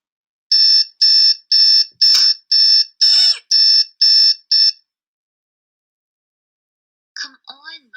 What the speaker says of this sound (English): Every morning my alarm clock wakes me up for school.